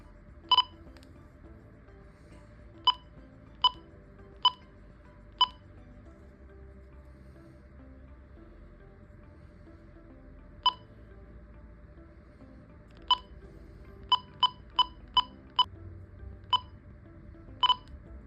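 Short, sharp electronic beeps from an Icom M25 EVO handheld VHF marine radio as its buttons are pressed, coming singly and in quick clusters over a low background hiss, with long quiet gaps between bursts.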